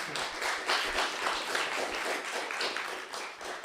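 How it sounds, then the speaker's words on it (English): A modest open mic audience applauds a performer, with scattered, fairly quiet clapping of moderate density that keeps up steadily for a few seconds. "Round of applause for Duncan, please."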